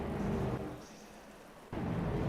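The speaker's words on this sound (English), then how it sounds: "it is most definitely raining" Steady rain hisses in a sim racing game at Imola, a broad, even wash of noise with a brief dip in level midway.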